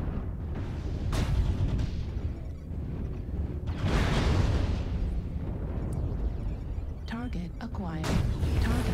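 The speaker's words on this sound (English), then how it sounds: "Hopefully that airstrike did something over here" Booming airstrike explosions in the mech combat game MechWarrior Online, with several heavy rumbling blasts and bursts over a couple of seconds amid continuous battle noise, with a player talking over them.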